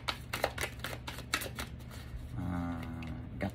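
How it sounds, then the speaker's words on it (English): Tarot cards shuffled by hand in a quiet room, a string of soft riffling slaps and flutters, close and moderately loud, with a low steady hum underneath. "let's shuffle this up"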